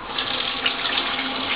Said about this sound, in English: fill the water